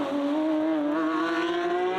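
Lamborghini Countach and Sian V12 engines launching in a drag race, a loud, close, rising roar climbing steadily in pitch through the whole stretch.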